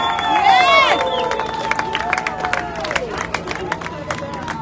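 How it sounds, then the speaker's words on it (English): A crowd at a Trump rally held by Israeli supporters claps and cheers, a dense steady wash of applause with whistles and shouts, fairly loud and close, with voices mixed in. "Give it a hand of applause right there."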